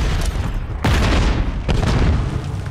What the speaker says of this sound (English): Hit him with the nade.